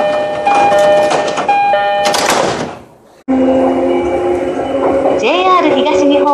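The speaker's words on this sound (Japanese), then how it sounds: "ドアが閉まります" Electronic door-closing chimes on a JR East Shonan-Shinjuku Line train ring out with sustained tones, a brief pause, then a new melodic tone sequence over carriage ambience.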